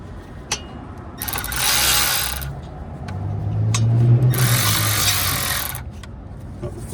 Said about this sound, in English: I'm gonna use my cordless ratchet.